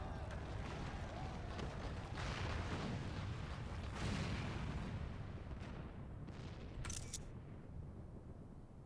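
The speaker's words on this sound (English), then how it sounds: "Must have been the cannon at Castromabania." Cannon fire booms and a tower collapses in the video game Final Fantasy XIV, a dense roaring, rumbling barrage of explosions that swells and then slowly fades over the scene.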